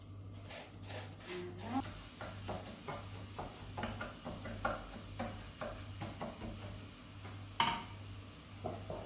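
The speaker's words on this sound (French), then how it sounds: "mon riz mouillé que j'ai juste passé à l'eau dans un chinois et je le mets donc dans l'huile d'olive" Rinsed wet rice is stirred in olive oil, with a soft, quiet sizzle beneath repeated scraping and clinking strokes of a spoon against the pan, ending in one sharper knock.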